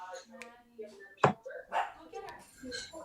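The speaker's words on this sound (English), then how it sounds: "Hey, dog, shut it." A dog barks a few times in the background during a home darts match, sharp bursts cutting through steady, lively talk from people in the room.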